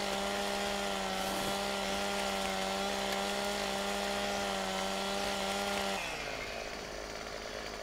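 A chainsaw in Farming Simulator 15 runs at a steady high-revving whine while delimbing a felled tree, loud and continuous for about six seconds before the pitch drops as the cut ends.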